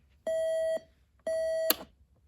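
Two identical electronic beeps, each about half a second long, spaced a second apart, from a clock alarm; a small click follows the second beep.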